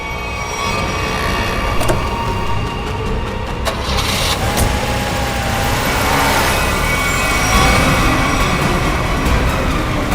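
A car engine starts and runs with a loud, steady rumble and mechanical whine that holds evenly for about ten seconds, close and without speech.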